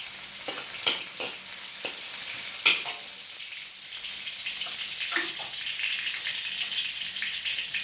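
Garlic paste and chili fry in a pan with a steady, close sizzle. Occasional scraping stirs and soft pops break through the hiss.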